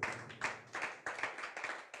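A church congregation claps together in a rhythmic, fairly close burst of applause, several sharp hand-clap pulses roughly every quarter second for two seconds.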